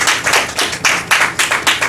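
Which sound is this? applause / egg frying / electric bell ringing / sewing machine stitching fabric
applause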